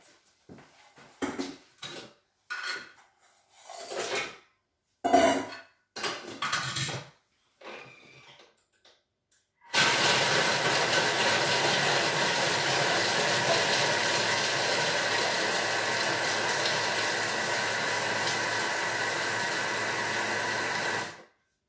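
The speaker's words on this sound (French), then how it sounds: "je mets mes spéculoos et je mixe 10 secondes à vitesse 4" A food processor whirs loudly and steadily for about ten seconds at speed 4, blending speculoos biscuits with butter, following a few short handling clatters in the quiet before it starts.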